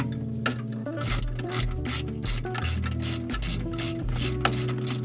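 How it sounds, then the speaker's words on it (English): A 10 millimeter socket ratchet tightens a frame rail bolt while installing a coolant overflow reservoir tank on a 2022+ Honda Civic: a rapid, close run of clicking pawl ticks over a low mechanical hum. "Go ahead and tighten it down with your 10 millimeter socket."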